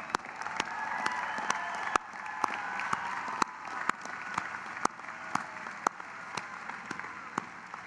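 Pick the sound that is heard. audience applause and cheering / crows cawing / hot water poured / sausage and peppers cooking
audience applause and cheering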